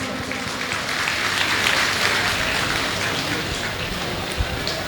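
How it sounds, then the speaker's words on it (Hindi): Audience at a Hindi poetry stage event claps in response to a poet, a steady, dense rattle of many hands sustained throughout at moderate loudness with no talk over it. "एक बार तालियां बजा के मुझे सूचित करें कि मैं पढ़ना शुरू करूं।"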